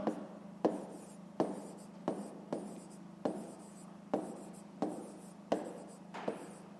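A pen writes on paper in a quiet room, about a dozen short scratchy strokes in an uneven rhythm, close and faint, with no talking.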